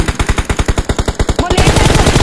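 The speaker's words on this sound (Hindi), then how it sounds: "तो यार लेफ्ट से गोलियां चलने की आवाज आती हैं" Rapid bursts of automatic gunfire in the battle royale game PUBG, a steady run of loud shots, shifting into a denser, more continuous volley near the end.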